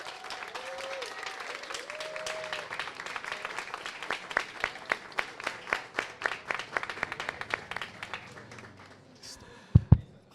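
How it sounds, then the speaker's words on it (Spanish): Audience applause welcoming two speakers onto a stage, a dense steady patter of many clapping hands that thins into scattered louder individual claps before fading out, with a brief voice near the start. "Vamos a recibirlos con un fuerte aplauso."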